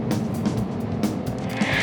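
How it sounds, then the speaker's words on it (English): Police car driving along the M25 motorway at night: steady loud engine drone and tyre roar from inside the car, continuous and unbroken, with faint higher whines drifting over it. "So we're just driving along the M25 now, seeing if we can make ground and find the vehicle."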